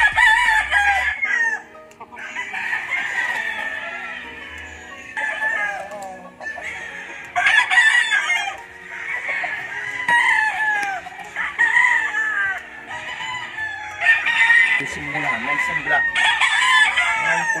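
Chickens and roosters, some imported from America, crow repeatedly on a farm, several loud overlapping cock-a-doodle-doos in succession with occasional clucking, close by and without speech.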